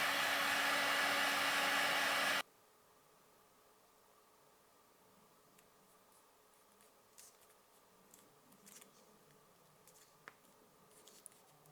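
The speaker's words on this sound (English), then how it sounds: "what you can use is a heat gun, and that's just going to speed up the time for the glue to go sticky" Heat gun blowing hot air over glued leather for a clutch bag, a loud steady roar for the first two seconds that cuts off abruptly, followed by quiet workshop rustles and small taps.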